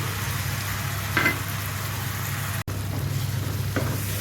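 Tomato puree fries in masala in a pan for dal makhani, a low, even sizzle with a couple of brief stirring scrapes and a momentary dropout partway through.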